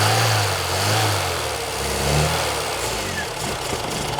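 An 80s turbo hot hatch, a barn-find classic, with its engine running at a steady rough idle, a loud low rumble with slight surges and no talking over it.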